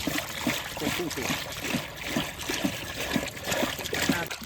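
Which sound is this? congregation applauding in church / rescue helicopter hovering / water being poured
water being poured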